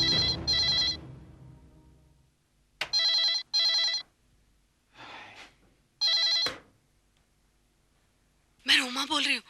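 A telephone rings in a Hindi crime drama scene, several bursts of an electronic trilling ring separated by pauses, close and clear, alongside short stretches of voice.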